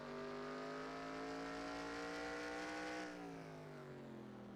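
A race car engine on the Charlotte Roval circuit in a racing video game holds a steady high-pitched drone with clear harmonics, then drops in pitch as the throttle lifts and the car decelerates, loud and continuous with no talk.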